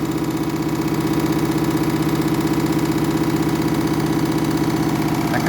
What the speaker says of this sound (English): It's never been this out of balance on a final spin before.